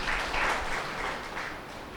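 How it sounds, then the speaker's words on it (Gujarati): A church congregation at a Bible sermon claps together for a couple of seconds, a soft, even wash of many hands heard at a modest distance. "તાળી પાડીએ આપણે, હાલેલુયા."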